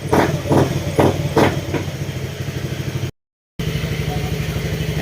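Motorcycle engine idling to warm up after a water pump replacement, a steady rhythmic chug with a few louder revving bursts early on and a brief dropout partway through.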